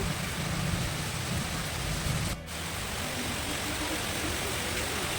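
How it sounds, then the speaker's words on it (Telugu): Heavy rain pours down outdoors in a steady, loud, unbroken hiss that fills the whole scene, with no voices over it. "మంచిగా బయట ఫుల్ వర్షం పడుతుంది."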